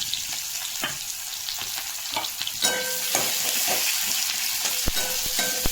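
Garlic and onion tempering in hot oil in a pan with eggplant and flat beans: a loud, continuous sizzle broken by sharp spoon scrapes and clinks, close by, with no talk.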